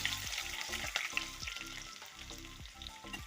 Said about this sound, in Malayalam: അതിൽ കടുക് പൊട്ടുന്നുണ്ട്